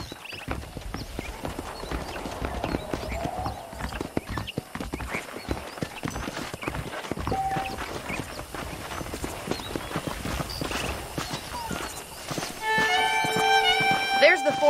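Horse hooves clip-clop steadily in the Red Dead Redemption video game, a rhythmic trot running under frequent talk, with a brief whinny and a tonal musical or interface sound toward the end.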